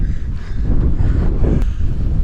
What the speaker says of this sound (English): now it's just like seriously windy and really cold